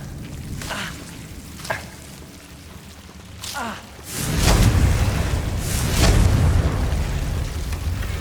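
Confringo fire spell from a Harry Potter video game: a few brief magical whooshes, then a loud, sustained rumbling blast that keeps roaring to the end.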